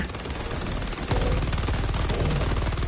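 Stalwart machine gun fire aimed at a Charger in a video game: loud, rapid full-auto bursts that hammer continuously, intensifying after the first second.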